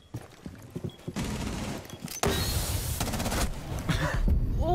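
Shotgun gunfire in the tactical shooter game Rainbow Six Siege: several rapid, loud blasts in bursts over a few seconds, heavier in the second half, along with other game sounds.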